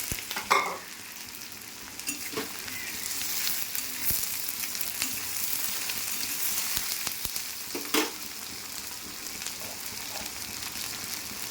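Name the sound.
morola fish frying lightly in a pan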